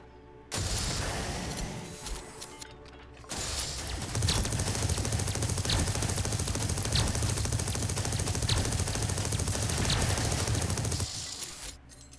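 Rapid-fire weapon shooting a steady stream of bullets in a building game, a dense continuous roar of shots lasting many seconds with brief breaks early on, loud and close.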